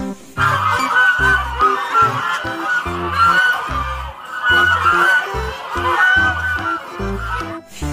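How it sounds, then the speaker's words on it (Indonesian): Repeated loud goose honks from the video game Jurassic World Evolution 2 in a rhythmic pattern over a musical backing, several calls in quick bursts with short pauses between. "ada angsa juga teman-teman"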